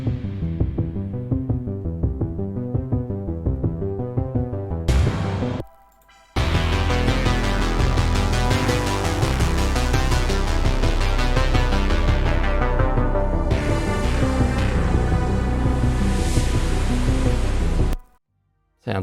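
Stranger Things-style synth theme built in Serum, an arpeggiated analog-sounding pattern whose filter is automated to start muffled, open up toward a bright climax and close again, playing loud and steady with short breaks near the start and end.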